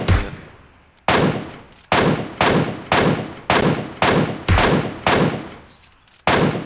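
Eight loud, close gunshots in PUBG Mobile, fired at a steady pace of roughly one every three-quarters of a second. Each bang is a sharp crack that rings out and decays before the next, with no voices over them.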